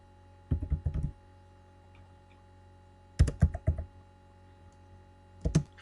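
Keys tapped on a computer keyboard while typing a chart title in a spreadsheet, three separate quick bursts of close, crisp clicks with quiet gaps between them over a faint steady hum.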